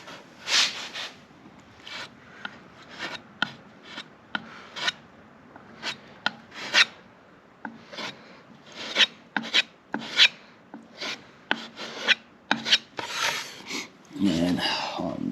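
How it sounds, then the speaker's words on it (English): Quick raspy scraping strokes worked into the corner of a cabinet during refinishing of cabinets and drawer fronts, a dense run of short close-up rubs and scrapes with brief pauses, ending in a longer continuous rasp. "Just scrape it nice and quick."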